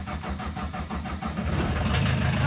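A Suzuki Samurai with no exhaust line cranks with rapid rhythmic churning, then catches and settles into a loud, rough, close-up idle.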